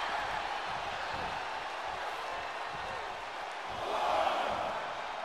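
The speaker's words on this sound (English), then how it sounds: "What a raucous crowd here tonight." Roaring arena crowd at a WWE 2K24 women's tag team wrestling match, a steady dense wash of cheering that swells louder near the end with no break.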